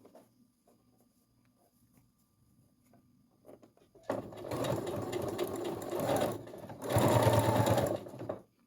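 A sewing machine stitches the hem of a baby's cloth diaper, starting after a quiet stretch and running loud and steady in two bursts separated by a brief slowdown.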